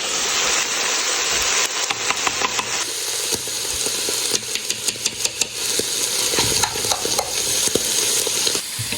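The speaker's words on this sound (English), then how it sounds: "So after the curry paste, I'm just gonna stir it for a couple of minutes" Red curry paste sizzles in a pan as a utensil stirs it in quick, repeated scrapes and taps, close and fairly loud over a steady frying hiss.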